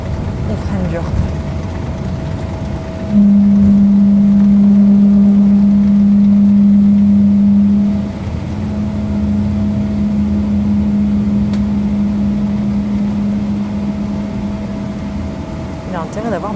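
A passenger airliner braking hard on the runway after landing at Paris Charles de Gaulle: a loud, steady low whine over a broad cabin rumble that holds for about twelve seconds, then eases slightly.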